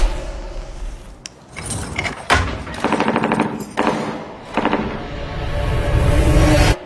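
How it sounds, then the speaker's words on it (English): Gunfire in a film scene: rapid bursts of automatic shots and sharp cracks crowd the soundtrack, loud and continuous, mixed with thuds and rumble. "Do you hear that? Were those gunshots?"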